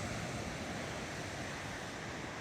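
Big Pacific Ocean waves make a steady, dense surf roar with no distinct individual breaks, heard alone for a couple of seconds.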